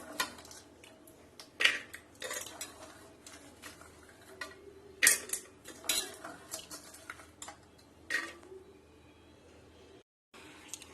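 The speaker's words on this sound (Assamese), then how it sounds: "এতিয়া এনেকৈ ৰাজমাহ বীজ খাই গলে এতিয়া ভিজা পিছত মই কুকাৰত ঢালিছো" Soaked kidney beans poured into a metal pressure cooker, heard as scattered clanks, scrapes and rattling knocks of utensil on pot, quiet between sharper hits, ending in a brief pause.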